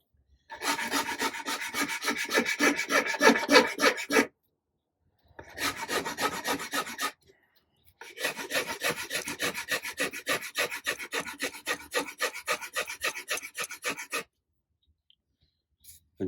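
Rasping and rubbing on a wooden guitar neck during hand carving, in three bursts of rhythmic back-and-forth strokes separated by short silences, close and clear.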